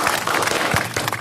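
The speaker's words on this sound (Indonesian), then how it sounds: "Oke, tepuk tangan dulu." An audience at an Indonesian NU podcast claps, giving a brief, steady burst of applause that is moderately loud and close, with no speech over it.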